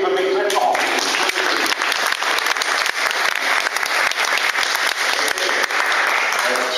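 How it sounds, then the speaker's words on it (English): Audience applause for a horse and rider at a riding show, a dense, loud, steady wash of many hands clapping that fills the whole stretch without a break. "That applause was for the horse and the rider."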